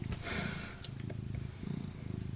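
A cat purrs softly and close by, a low steady rumble with a pulsing rhythm.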